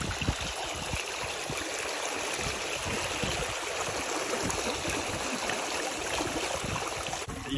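Irrigation water flowing steadily along a canal in Sindh near Sanghar, a continuous close rushing and gurgling with no break.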